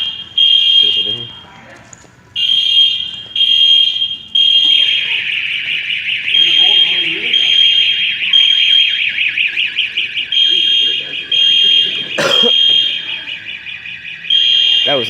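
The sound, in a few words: fire alarm ringing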